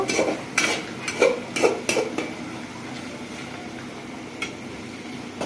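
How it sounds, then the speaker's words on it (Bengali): Pigeon meat and small chopped potatoes stirred in a pan over a low, steady sizzle, with a spoon scraping and clinking against the metal in irregular bursts. "এই যে মাংসটা আরেকটু সময় কষিয়ে নেব"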